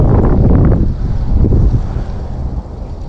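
Strong wind buffets the microphone outdoors while fishing, a loud continuous low roar that swells and eases, heaviest at the start and tapering slightly toward the end.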